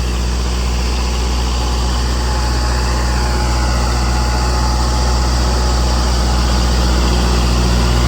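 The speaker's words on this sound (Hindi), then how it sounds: "इसके अंदर जो है ना 2434 सीसी का इंजन है, विदाउट टर्बो के साथ में आता है।" Tractor with a 2434 cc naturally aspirated engine without turbo, running at a steady low rumbling idle, loud and close with constant level throughout and no talk.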